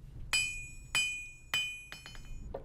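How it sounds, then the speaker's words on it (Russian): Metallic clinks and hammer-like taps while a lantern is taken apart in The Long Dark, three sharp ringing strikes about half a second apart followed by a few lighter clatters, close and clear with no talking. "Если я разберу этот фонарь, ну-ка"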